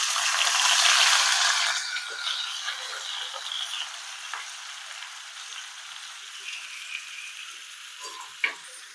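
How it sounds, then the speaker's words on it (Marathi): Star fruit pieces dropped into hot oil with asafoetida burst into a loud, close sizzle. The sizzle fades to a steady, softer crackling hiss with a few small clicks. "हिंग टाकला की त्या फोडी टाकायच्या स्टार फ्रूटच्या केलेल्या."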